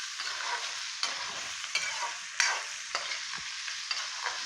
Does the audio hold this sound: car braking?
no